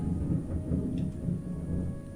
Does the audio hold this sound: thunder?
yes